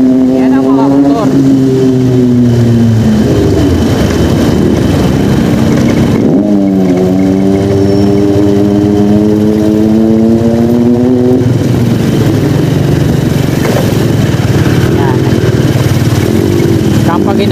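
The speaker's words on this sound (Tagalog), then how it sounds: "Yan ang mga motor." Motorcycles passing along a road near Aguinaldo gate by EDSA, loud engines revving and droning as they go by close, with rising and falling pitch through several passes and a voice speaking over the traffic.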